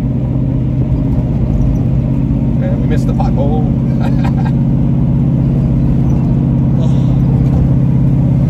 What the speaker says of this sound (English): We're out here cruising on the back roads, just, you know, driving around.